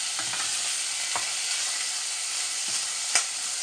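Pork pieces fry in a pan with a steady, close sizzle and a few soft stirring clicks over the constant hiss.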